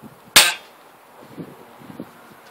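A single sharp crack from a PSRM-2-55 air rifle firing a JSB 0.475 g pellet through a chronograph, close and loud, followed by faint quiet voices and room noise.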